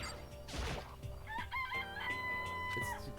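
A chicken crows loudly in the video game Danganronpa: Trigger Happy Havoc, a rising cry early on followed by clucks, over steady game music.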